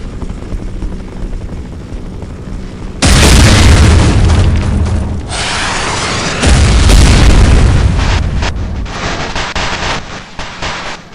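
A grenade blast in the video game Heart of Evil erupts as a sudden loud, broadband boom, followed by a second explosion a few seconds later, with rumbling debris and gunfire-like cracks trailing off.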